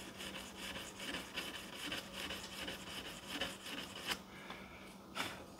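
Sandpaper rubs back and forth across the wooden neck of a set-neck guitar, a soft, close, steady rhythm of repeated scratchy strokes, with no voices.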